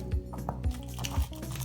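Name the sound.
slicing cabbage with a knife for sauerkraut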